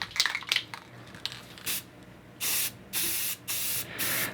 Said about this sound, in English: Clear coat, semi-gloss.